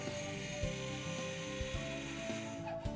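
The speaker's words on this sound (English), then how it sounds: "File the cut ends of the profile to remove any burrs." A hand file works the freshly cut ends of a Schluter Rondec-Step metal tile edge profile, deburring the metal with steady, close rasping strokes that repeat in a loose rhythm with no one speaking.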